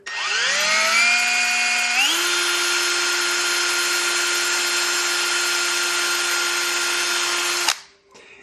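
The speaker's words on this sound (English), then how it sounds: "try to keep the drill as straight as possible" A power drill whines steadily at high pitch drilling into metal on a Volkswagen engine, ramping up in speed at the start, running continuously for several seconds before stopping abruptly.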